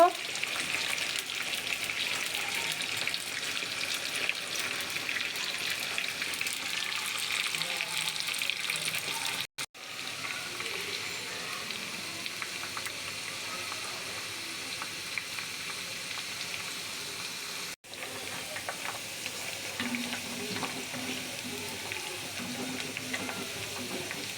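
Aloe vera and neem leaves fry in hair oil in a pan, giving a soft, steady sizzle that runs throughout, briefly interrupted twice by sharp drops to silence.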